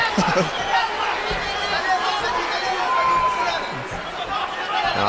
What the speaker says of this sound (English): it's hard to hear when you've got a mob cheering